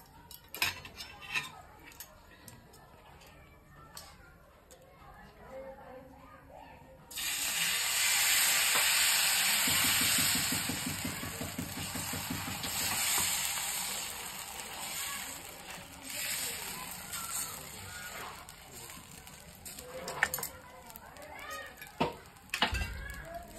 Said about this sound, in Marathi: थोडंसं तेल टाकून घेणार आहे तव्यावर।